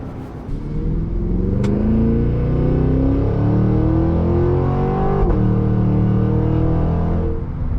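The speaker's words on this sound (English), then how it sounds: "what you really appreciate and love about this thing is that amazing Z06-like noise" A 682 hp 2023 Cadillac Escalade-V accelerates hard, its engine roaring loud and close with a steadily rising, continuous note for several seconds and one short mechanical click partway through.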